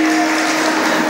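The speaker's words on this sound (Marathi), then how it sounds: "तुम्ही तुमच्यासाठी एकदा टाळ्या वाजवा" Sustained clapping from a kirtan audience, a broad steady wash of applause that stays even and fairly loud throughout, with a faint tonal hum beneath.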